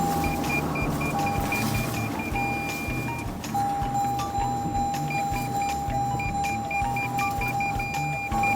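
A vehicle grinds steadily up a steep hill climb at extreme tire air pressure, its engine droning loud and close throughout, with a constant electronic tone and intermittent beeps over the top.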